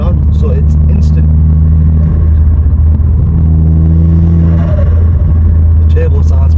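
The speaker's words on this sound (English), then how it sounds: "The turbo sounds, man. The turbo sounds so nice." A Stage 2 tuned Vauxhall Astra VXR turbo making about 320 bhp runs with a loud, steady low engine drone and sustained rising pull tones, close and constant throughout, with a voice talking over it.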